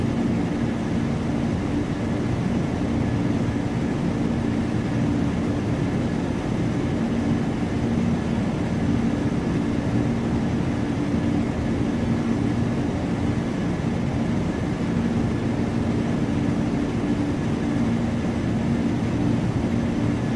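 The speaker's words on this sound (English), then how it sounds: "Wheels squeak and everything as this thing was trying to get up" A Lockheed L-1011 TriStar in Flight Simulator X rolls down the runway for takeoff, with a loud, steady engine roar and continuous rumble for the whole stretch. No one talks over it.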